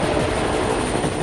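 India's Light Combat Helicopter, an attack helicopter, produces a loud, continuous rotor and engine roar that fills the brief moment without any voices.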